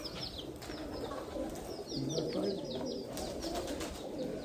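Pigeons or doves at a bird shelter coo softly, with scattered chirps and brief wing flaps over a busy background hum. Voices murmur faintly in the background.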